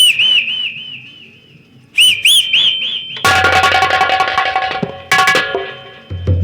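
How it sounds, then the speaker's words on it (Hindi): A person whistles loudly in wavering, looping phrases, then short sharp blasts, before a burst of dense music and noise cuts in. "रुक जाओ हम सीटी मारे।"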